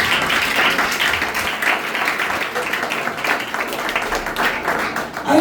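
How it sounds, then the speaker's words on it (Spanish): Church congregation applauding during a sermon, a sustained, fairly loud crackle of many hands clapping for several seconds, with faint voices mixed underneath. "Dale un aplauso, Señor."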